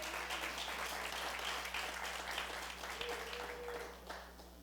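Church gathering applauding Fanny, the secretary, for her work, with a steady spread of clapping from a crowd that gradually softens toward the close, with faint voices underneath.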